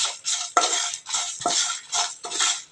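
Mango pickle mixture and curry leaves dry roasting in a pan without oil, a spoon scraping and stirring in steady repeated strokes, close and fairly loud with light sizzle.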